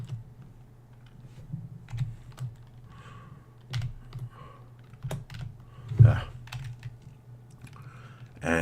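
Keys tapped on a computer keyboard while entering code in a Unity game project, a sparse run of close clicks with short pauses and one louder knock near the end, over a low steady hum.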